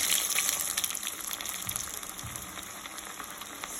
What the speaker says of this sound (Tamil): இதை வந்து நான் இப்போ ஆயிலில் போடுறேன்.